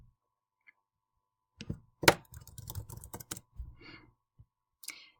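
Fingers tap out numbers on a calculator in a short run of crisp, close clicks, starting after a quiet pause, irregular in rhythm, with a few isolated taps near the end.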